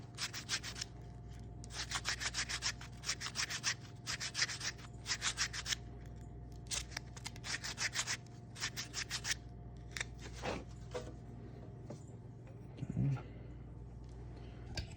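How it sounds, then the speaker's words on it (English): Abrasive sanding on the inside edge of a half-ounce pure silver coin ring, heard as a run of quick, rhythmic rasping strokes in bursts that fade out toward the end. "sand that inside edge down."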